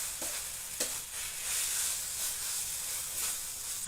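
Vegetables, coriander and garlic stir-frying in a hot pan, a steady loud sizzle and hiss with a couple of sharp spatula clinks near the start, no voices.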